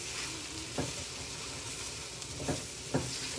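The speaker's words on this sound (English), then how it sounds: "Increase the heat and stir well." Scrambled eggs sizzle steadily in a hot pan while a utensil stirs them, with a few louder scrapes against the pan standing out from the continuous frying hiss.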